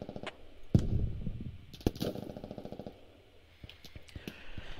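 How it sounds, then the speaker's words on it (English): Enemy machine gun fire in the tactical shooter Squad, with distant, fairly quiet bursts of rapid shots cracking among softer ambient battlefield noise, a few louder reports standing out early on. "Oh, looks like they got a machine gunner."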